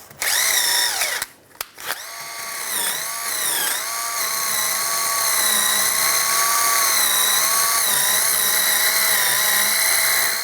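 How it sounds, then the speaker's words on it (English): A wire brush spun by a power drill scrubs a brake caliper bracket on a 1999-2005 Volkswagen Jetta, giving a steady loud high-pitched whine with gritty scraping that wavers as pressure changes, briefly stopping near the start, then running continuously. "Now we're going to clean up the bracket using the same wire brush."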